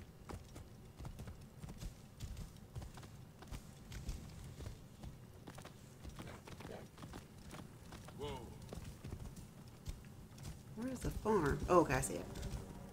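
Horse hooves clip-clopping in Assassin's Creed Origins, a steady walking rhythm of soft thuds running throughout beneath game ambience and music, with a brighter burst of sound near the end.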